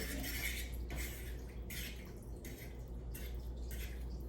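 Spaghetti sauce being stirred in a pan over low heat, with soft wet scraping and clinks of a utensil against the pan coming in short repeated strokes.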